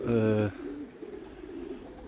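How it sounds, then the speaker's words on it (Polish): A single short, close pigeon coo, low and throaty, followed by quiet room noise with a faint murmur. "gołębie to są takie czujne. Już, już czują tą wiosnę, już zaczynają gruchać"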